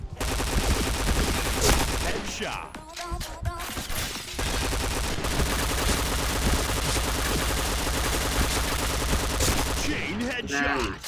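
Rapid gunfire in an online shooter game, continuous loud bursts of automatic weapon fire with brief gaps and explosive cracks throughout, with players shouting over it.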